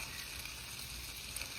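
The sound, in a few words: okra sizzling in the oven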